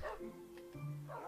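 A Minecraft dog gives short yips and whimpers over a steady low background hum, the calls faint and close.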